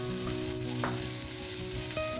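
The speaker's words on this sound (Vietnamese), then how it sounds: "Sau đó cho tỏi băm và hành khô vào rồi phi thơm lên." Butter sizzles steadily in a pan as minced garlic and shallots fry, a close, even crackle with a few stirring scrapes and no talking.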